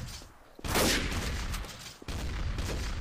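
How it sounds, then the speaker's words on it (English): Gunfire in a Garry's Mod Trouble in Terrorist Town round on the Castle Black map: a sharp burst of shots near the start, then dense, continuous shooting and loud game noise under a brief voice. "No, I shot Tom"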